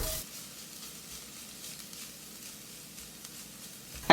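Shredded cabbage and shredded coconut for cabbage foogath cooking in a pan, a soft continuous sizzle with faint stirring, fairly quiet and steady throughout.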